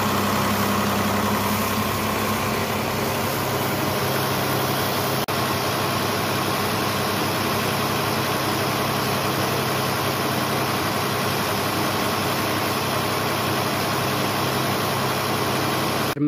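A tractor engine idles steadily during a tractor wash, a loud, close, unbroken low rumble with a vibrating mechanical hum that holds throughout and no talking.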